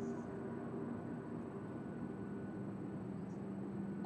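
Steady low cabin drone inside an airplane in the multiplayer survival video game The Forest, a continuous engine hum running unbroken throughout at moderate level with no talk over it.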